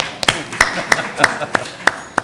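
Scattered handclaps from a small audience at a Chester city council meeting, about eight sharp claps spaced unevenly over a quiet room.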